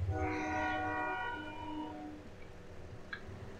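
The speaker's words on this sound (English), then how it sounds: "Let Mr. Train get by." Train horn in Farming Simulator 17 sounds loud and sustained at first, then fades as the train rolls past with rumbling wheels, leaving low background noise.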